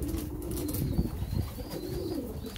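Pigeons flap their wings near and fairly loud in a loft, giving a steady fluttering rustle with low cooing mixed in.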